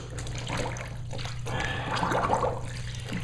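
Water wrung from freshly dyed fabric over a sink splashes and trickles in a steady, close run, rising and thickening midway before thinning out.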